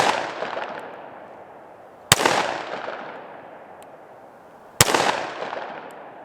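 Two sharp, loud 10mm pistol shots from a Smith & Wesson M&P 2.0, fired a few seconds apart at an outdoor range toward a 60-yard silhouette, each followed by a long echoing decay.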